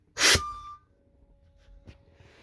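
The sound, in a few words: Vogue motorhome air brakes releasing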